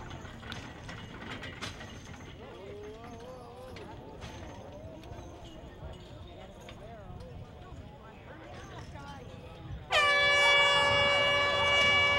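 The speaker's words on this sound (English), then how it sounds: "we wait for the sound of the horn." Air horn starting a heat of a horse or chuckwagon race at Turtleford, a sudden loud, sustained blast that cuts in near the end over crowd noise, an announcer's voice and clattering mechanical and hoof sounds.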